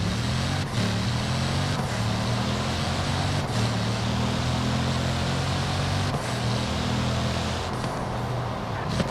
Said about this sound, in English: Just listen to the sound of that car.